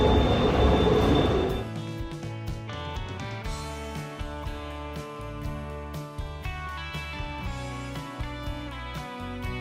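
Aboard the SkyTrain at Phoenix airport, a loud rush opens the ride, then a steady electric hum and rolling rumble carry on with faint rhythmic clicks of the rail car.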